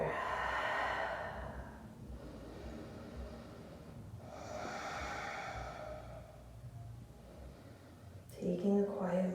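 Slow, audible breaths of a person holding a baby cobra pose during a morning yoga exercise: two long airy exhales several seconds apart, close and soft, with a brief voice near the end.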